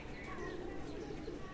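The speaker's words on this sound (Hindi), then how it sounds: "ये 17 कबूतर है जी हमारा" Pigeons kept in a loft coo softly in a low, continuous murmur, faint and close, with a few brief chirps mixed in.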